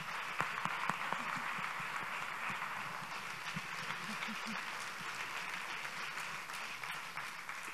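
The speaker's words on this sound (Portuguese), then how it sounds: "pelos músicos maravilhosos que merecem mais um aplauso" Audience at a fado concert applauding the musicians, a moderate, steady patter of clapping from a seated crowd, somewhat distant and sustained throughout without a clear end.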